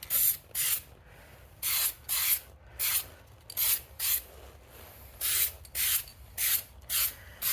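Short bursts of an aerosol spray can laying a heavier second coat on a Nissan Xterra grill, about a dozen hissing passes in an uneven rhythm with brief pauses between them.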